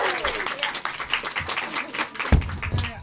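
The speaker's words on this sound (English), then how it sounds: "You'll get a big, big round of applause to begin." Studio audience applauding at the start of an improvised Sherlock Holmes comedy play, steady broadband clapping with a few louder claps and a brief thump near the end.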